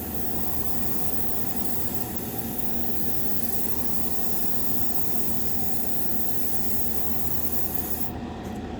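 A spray gun steadily hisses paint onto the inside of a 1932 Ford roadster hood, a constant, even, close-up rush of spray that runs unbroken and cuts off just before the end.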